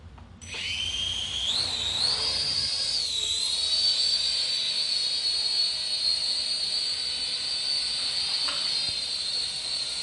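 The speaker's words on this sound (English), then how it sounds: "Now, as you can see, the drone is actually hovering" A Maxbo A10 Cyclone drone hovers close by, its propellers producing a loud, steady high-pitched whine that rises as it lifts off and then holds level without a break.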